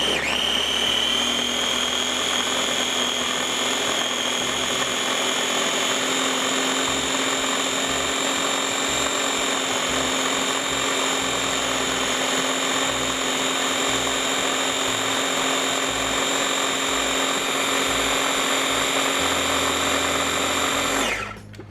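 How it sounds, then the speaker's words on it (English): A blender whirs steadily and loudly for about twenty seconds, puréeing chimichurri sauce in a home kitchen, a constant high motor whine without pause before stopping abruptly. "Now we can blend that all up, make it smooth."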